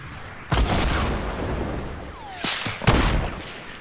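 Two sharp, loud sniper rifle shots ring out in Fortnite, spaced a couple of seconds apart, each with a ringing echoing tail, and a fainter crack in between.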